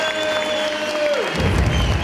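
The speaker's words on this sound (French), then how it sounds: "Je veux vous entendre applaudir. Je veux vous entendre crier." An audience at a show in a cultural centre applauds in a dense, steady wash with some cheering, while a sustained tone glides downward and fades.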